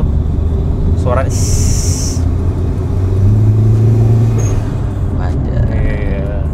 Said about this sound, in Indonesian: kalau gas-gas nanggung begini kan nge-spooling tuh suaranya